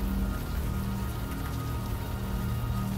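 Steady rain patters in the video game Unavowed, a soft, continuous wash of raindrops with a low background hum and no voices.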